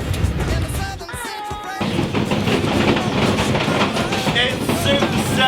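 A train on the Tazara Railway in Tanzania pulls away with a steady rumble and rhythmic clatter from the wheels. A voice speaks briefly over it.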